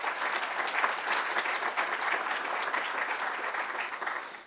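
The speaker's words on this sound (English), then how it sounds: "Let's give them a round of applause." Audience applause after thanks at a New School talk on work and retirement security, a dense steady ovation of many hands clapping at moderate level for several seconds, no speech over it.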